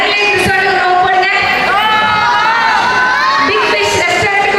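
A festival crowd at a Tamil New Year celebration in Salem shouts and cheers together on cue, a loud, continuous roar of many voices with high whoops rising through it.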